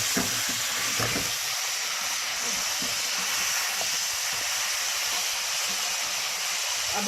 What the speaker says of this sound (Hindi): गोश्त हमारा जो है वो देखें, इसको थोड़ा सा कुकिंग ऑयल में आप इसको भून लें